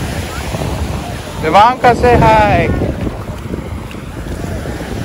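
Crowded beach with steady wind buffeting the microphone and a constant wash of surf, while a person talks briefly near the middle.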